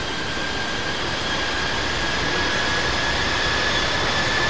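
A steady, loud, broadband roar of an airplane engine in a flight simulator, holding constant at reduced throttle without pause or change.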